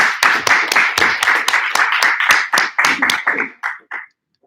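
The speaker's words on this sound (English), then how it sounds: "please give him a big round of applause" An audience at a Stanford blockchain conference claps in a burst of sharp, close handclaps that thin out and fade to silence after about four seconds.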